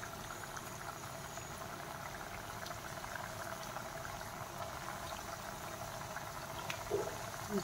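Churros frying in hot oil, a steady dense sizzling bubble that holds evenly throughout, with a couple of small pops near the end.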